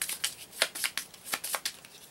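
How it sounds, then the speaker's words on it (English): A deck of baseball trading cards for a collectible card game is shuffled by hand, giving a quick run of about eight crisp, papery riffle bursts, close and fairly loud, with no voices. "I did say I was going to shuffle the American League's deck a little better"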